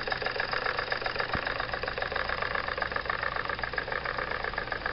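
A Jensen #55 toy steam engine drives a small coffee grinder with a cast flywheel and nylon plastic gears, producing a steady, rapid mechanical chugging and whirring that runs evenly and close up, with no voices.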